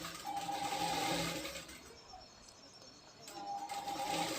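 A sewing machine stitches a katori blouse sleeve joint in two bursts of steady whirring, with a brief quieter pause in between, heard close and fairly soft.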